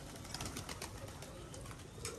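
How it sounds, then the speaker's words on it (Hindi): Pigeons settle close by on a rooftop loft where grain has been scattered, giving soft cooing and a brief wing flutter over steady outdoor background noise. "ये देखें ये किसी का कबूतर आके बैठ रहा है हमारे पास"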